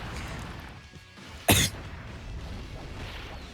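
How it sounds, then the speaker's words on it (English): A single sharp cough bursts out once against a quiet room background, brief and close. "had a bit of a cough there"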